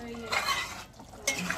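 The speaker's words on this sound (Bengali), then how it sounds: "এবার একটু নেড়ে নেবো, পুরোটাকে মিক্স করে নেবো।" Aloo bori curry being stirred in a pan, a brief scrape and clink of a spoon against the pan over a soft sizzle, close by.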